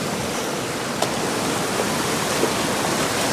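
Water rushes steadily through a gold sluice box lined with V matting, a constant close wash with a few faint clicks of material, and no voices.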